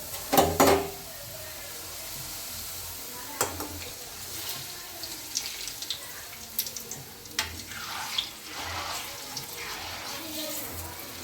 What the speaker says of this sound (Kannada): ಈಗ ಎಣ್ಣೆಯಲ್ಲಿ ಹಾಕೋಣ ಫ್ರೆಂಡ್ಸ್ ಪೂರಿನ